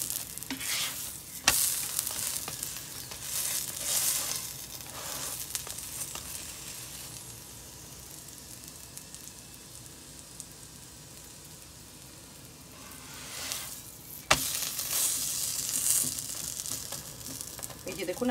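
Radish paratha fries in ghee in a pan with a steady, low crackling sizzle that swells louder at the start and end, broken by a couple of sharp clicks from utensil contact.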